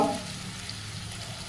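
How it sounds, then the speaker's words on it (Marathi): Potatoes sautéing in a pan with a pinch of asafoetida, a steady close sizzle of frying with faint stirring throughout, heard alone without talk. "आता हे बटाटे परतत आहे"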